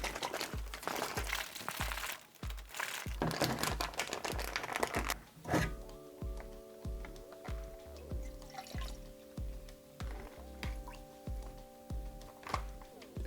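A plastic ration bag holding raspberry energy drink powder and 300 ml of water is shaken, giving rapid rhythmic sloshing and crinkling that is busy at first and lighter and steadier later, close up and without speech.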